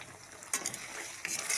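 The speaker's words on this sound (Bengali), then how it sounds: "এবার ভালো করে মশলাটা একটু কষা হয়ে গেলে মশলাটা আমি এভাবে কষে নেব একটু" Chili, coriander powder and cumin powder fry in a pan as a masala is sautéed for a vegetarian cauliflower curry, with soft sizzling and a few scraping stirs against the pan, close and quiet.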